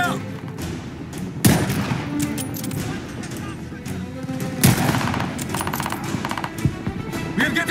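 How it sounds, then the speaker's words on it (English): Gunfire pours down from above in a 1942 war battle scene, a dense, continuous clatter of rapid shots with heavier thumps mixed in, loud and chaotic throughout, with voices faintly beneath. "We are getting shot from above."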